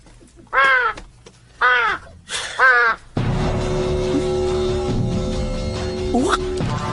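Three loud, harsh crow caws in a row, close by, followed by a steady wash of background noise and a faint engine hum.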